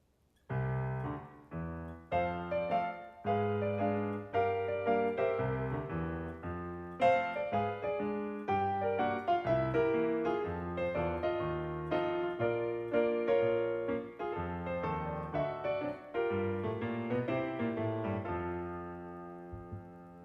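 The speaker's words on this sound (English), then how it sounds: "if I take a simple chord progression and I apply the rules of ragtime, it will sound like this." A solo piano plays a bouncy ragtime-style chord progression, steady syncopated left-hand chords under a lively right hand, close and clear, ending on a held chord.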